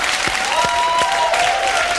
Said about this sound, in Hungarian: kérnék egy nagyon nagy tapsot Kozsó bácsinak